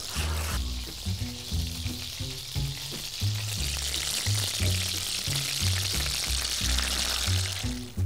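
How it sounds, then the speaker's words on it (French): Veal escalopes fry in browned butter in a pan on an induction hob, giving a loud, close, continuous sizzle. Low thuds from utensils recur beneath the hiss. "nos escalopes partent en cuisson"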